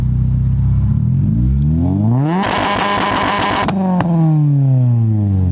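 A car engine tuned to pop and shoot flames revs hard, pitch sweeping up to a harsh crackling peak, then drops back to idle with a sharp pop as the revs fall away.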